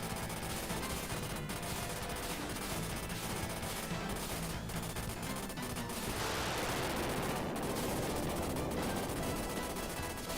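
Sustained rapid machine-gun fire from the Super Contra video game runs the full length, dense and loud without pause, growing busier partway through, with no talk over it.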